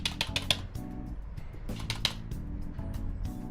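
A voice imitates hard, clattering computer keyboard typing with rapid bursts of sharp clicks, a short pause, then another flurry of mouth-made keystrokes.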